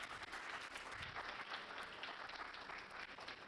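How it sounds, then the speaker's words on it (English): Audience applause fills a riverside forum on clean food and water, a steady dense wash of many hands clapping at low level with no talk over it. "Give these people an applause."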